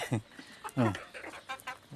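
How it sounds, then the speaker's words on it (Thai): Chickens on a farm cluck and squawk in short, uneven bursts close by, mixed in with excited human talking. "โอ้ไก่จะมาแล้ว"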